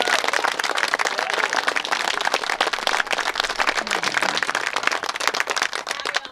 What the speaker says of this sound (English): So if we could all give them a great big round of applause.